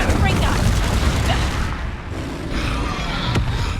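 A Reducto spell blast in the Hogwarts Legacy video game: a loud, dense burst of explosive combat noise fills the whole moment, with booming low rumble and crackling debris, easing briefly midway before swelling again.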